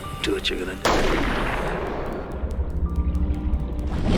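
A single loud gunshot cracks out in a tense TV drama scene, its sharp burst decaying into a long rumbling echo after a few faint, muffled voices beforehand.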